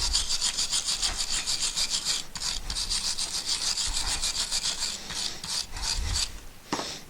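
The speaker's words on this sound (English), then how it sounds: "I'm going to just clean around here and some of the rust off." Rust is scrubbed off rear brake parts on a Honda CR-V during a brake service, a loud, steady rhythmic rasping of repeated strokes close by, pausing briefly near the end.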